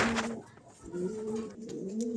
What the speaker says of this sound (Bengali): চমৎকার এক জোড়া ফান্টেল আছে